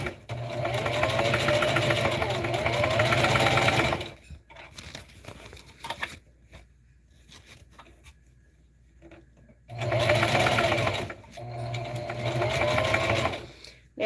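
Stitching through a thick placemat tote bag, a sewing machine runs in a loud, close burst, stops for several seconds of faint handling, then starts again in two more runs with a brief pause between.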